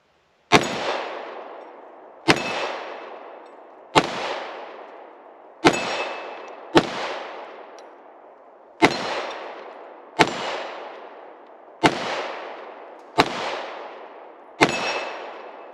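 A Smith & Wesson M&P 2.0 compact pistol with a 3.6-inch barrel fires ten loud, sharp shots at a range, spaced about one and a half seconds apart. Each crack rings out with a short echoing decay.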